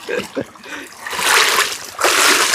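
Water splashes as a person wades across a river, with several bursts of churning and sloshing water that swell louder midway and again toward the end. Voices can be heard briefly at the start.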